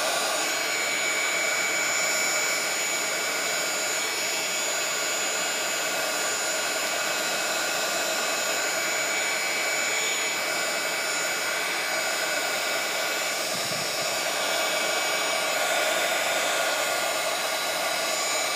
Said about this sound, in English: The secret to the heat gun is not to get it too close.